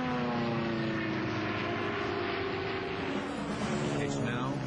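WWII propeller fighter planes roar in a steady, dense engine drone, loud and continuous as several aircraft manoeuvre close together in an air battle.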